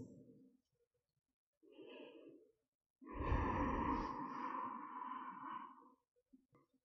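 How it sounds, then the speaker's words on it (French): Slow, deep breaths during a yoga session: a short exhale, then a gentle inhale, then a longer, fuller breath out, all close and quiet with silence between them. "Quelques longues respirations ici."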